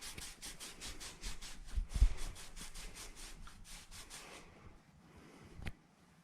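A clutch part from an S.A.F. Super Clutch is rubbed with 240 grit emery cloth in quick, steady back-and-forth strokes for about four seconds. A brief louder knock comes partway through, then the rubbing stops and only a faint scrape follows.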